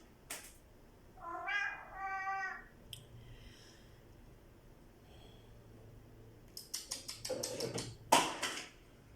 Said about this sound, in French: c'est le petit chat là-bas qui fait des bêtises